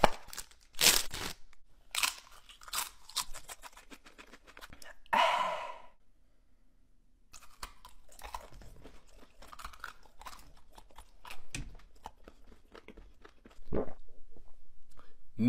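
Spicy Taki chips are crunched and chewed up close in irregular bites and sharp crunches, with a breathy sigh partway through and quiet, wet mouth sounds between the bites.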